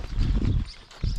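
Horse hooves clip-clop in quick rhythmic beats on a vaquejada track at Parque Guarani, fairly close and moderately loud, with a short pause before the pounding resumes.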